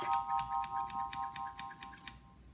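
Scissors cut through a sheet of paper with a rapid series of about ten crisp snips in a steady rhythm, close and alone over a faint tone, then stop.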